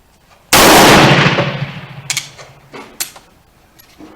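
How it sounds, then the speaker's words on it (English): A single loud, sharp gunshot from a Remington rolling block 7x57 Uruguayan carbine bursts out and rings into a decaying echo, followed by a few metallic clicks and clanks of the action nearby. "Let's shoot it, see what it does."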